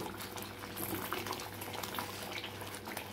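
Palak paneer curry simmers in a pot with a continuous soft bubbling and gurgling that stays faint but steady throughout, with no talk over it.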